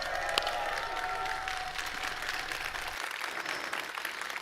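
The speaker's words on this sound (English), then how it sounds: "let's give him a big round of applause" A live-event audience applauds and cheers for Jeff Keighley at AMD's Next Horizon Gaming E3 2019 show, a dense, steady wash of clapping and crowd noise that holds for several seconds and thins slightly toward the end.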